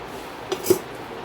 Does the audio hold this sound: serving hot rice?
yes